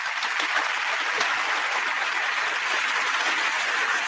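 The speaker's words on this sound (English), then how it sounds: "To my engineer, can I get a clap on that, please?" Studio engineer plays an applause sound effect on a cooking show: a dense, even burst of crowd clapping, steady and fairly loud throughout, with no talking over it.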